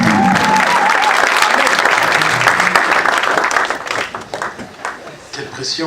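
An audience at a French-speaking church youth conference session applauds and cheers to welcome a pastor, with dense loud clapping that thins out toward the end, and voices mixed in.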